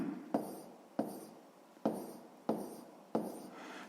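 Pen strokes on a school notebook during a sixth-grade math exercise: five distinct sharp scratches about a second apart, each trailing off, quiet and close, with no talking.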